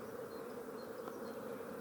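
Honeybees buzzing at an opened stacked hive during an inspection, with drones trying to get out, a steady close hum with no voices.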